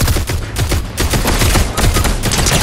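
Rapid bursts of automatic gunfire in a squad shooter video game, loud and close, overlapping volleys with brief gaps between them.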